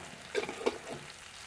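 Two green chilies hitting hot oil in a pan, brief sharp crackles and a quick burst of sizzle followed by a quieter steady fry, close and short, with no voices.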